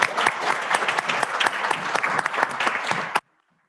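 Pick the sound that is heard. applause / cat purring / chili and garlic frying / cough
applause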